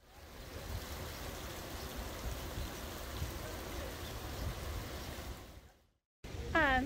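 Stream rushing through a rocky canyon in Iran, a dense continuous watery roar held for several seconds before briefly cutting out, followed by a short burst of other noise.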